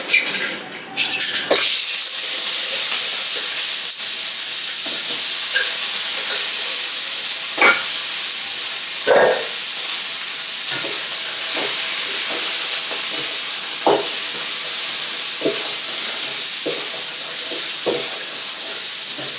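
Crab pieces hit a hot pan of oil for curry and set off a steady, loud frying sizzle with steamy hiss, broken by occasional stirring scrapes and pops over about twenty seconds.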